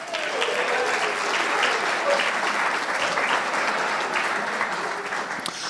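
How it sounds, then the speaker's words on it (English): An evening crowd gives a sustained round of applause, dense clapping that is loud and close, then tapers slightly toward the end. "So just give yourself a round of applause for making it this evening."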